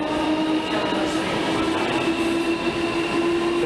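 A c2c train on the London Liverpool Street to Shoeburyness service gives a steady, loud rumble with sustained whining tones, continuous and unbroken throughout, with no clear talk over it.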